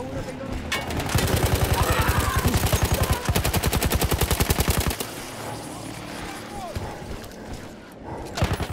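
Sustained bursts of machine-gun fire from a mounted gun in the World War I shooter Battlefield 1, loud and rapid for several seconds, then giving way to battlefield ambience with shouted voices and a few scattered shots.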